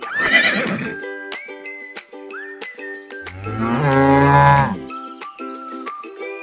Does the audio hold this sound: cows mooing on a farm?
yes